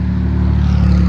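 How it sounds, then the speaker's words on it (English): A car passes close by on a road, a loud steady engine hum with a low droning tone, brief and unaccompanied by talk. "Well, a car, I'll wait till they pass."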